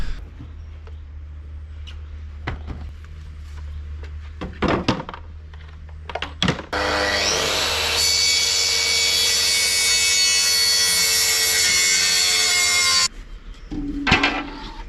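A saw cuts through a wooden bulkhead shelf in a VW Crafter van conversion, trimming it to length in one steady, loud stroke of about six seconds, preceded and followed by scattered knocks and handling thumps.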